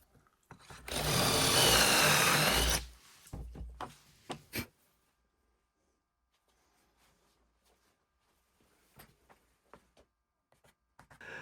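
Power drill boring angled dowel holes in wood through a dowel jig, a loud whirring burst of about two seconds, then short bumps and clicks fading to quiet handling taps.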